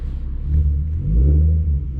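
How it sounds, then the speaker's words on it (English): A car engine revs to jump-start a Nissan 370Z, two short rising revs of a rumbling mid-pitched engine close by, with a brief dip between them. "I'm just gonna give it a few revs and then see if the Nissan will start"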